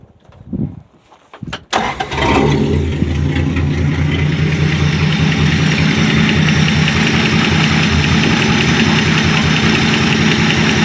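A 1965 Dodge Dart slant six fitted with headers cranks briefly, catches and settles into a steady, loud, rumbling idle that runs on evenly with a faint radio in the background.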